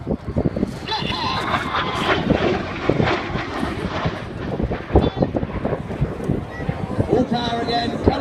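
Red Arrows jets at the Biggin Hill air show roar past in a loud, continuous rush of engine noise with wind buffeting the microphone, while a commentator talks over the top.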